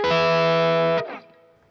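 A heavily distorted electric guitar plays a short sustained Mixolydian-style phrase, loud and close, with a bend at the end before it rings out and fades.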